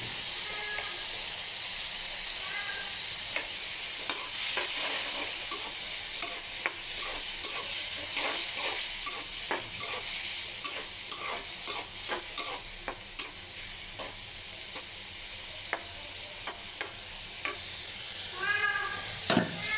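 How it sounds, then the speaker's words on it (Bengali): Dried fish (shutki) dry-fried in a pan without spices, a steady close sizzle with frequent scraping stir clicks and taps running throughout, no voices. "এটা আমি একটু ভাজা ভাজা করে নেবো মশলা ছাড়াই"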